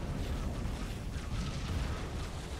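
A MAC cannon blast in the Halo Wars strategy game, heard as a dense, sustained rumbling boom with heavy low-end roar lasting the whole moment, loud and unbroken.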